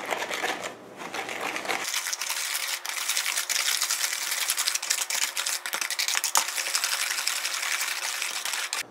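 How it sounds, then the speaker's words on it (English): A hand mixer beats eggs, vanilla extract and other wet ingredients for matcha green tea brownies, giving a steady close whirring buzz with rapid clicking rattles of beaters against the bowl, without talk. "we just want to beat these ingredients together"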